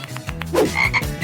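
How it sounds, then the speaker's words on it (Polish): A frog croaking close by in a quick series of short, rhythmic croaks, steady and fairly loud with no talk over it. "To żaba."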